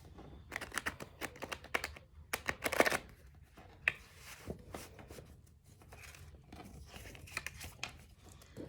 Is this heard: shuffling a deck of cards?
yes